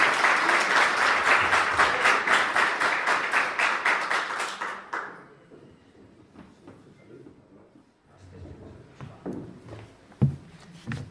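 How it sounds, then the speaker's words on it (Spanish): Dense audience applause at a conference on Mirage and Phantom aircraft, loud and steady for about five seconds, then tapering off into scattered claps and faint room noise. "Un aplauso para él."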